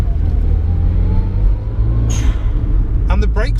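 A Daihatsu Copen engine pulls up through the revs with a rising drone under steady road noise, then a few short bursts of sound near the end.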